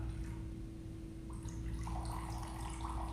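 Water poured from a cup for a gluten-free chicken stir-fry sauce, a soft liquid trickle and splash rising in the second half over a steady low kitchen hum, close and alone.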